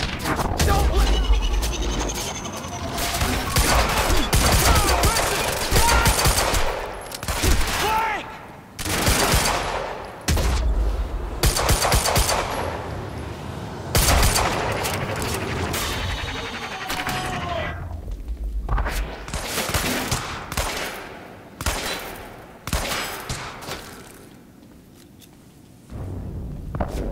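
Rapid bursts of automatic gunfire from the video game Quantum Break, loud and dense, with overlapping shots and brief pauses throughout, while voices shout over the shooting.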